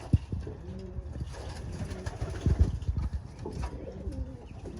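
Racing pigeons coo repeatedly, low soft calls layered close together, with faint rustling and a few brief thumps in the background.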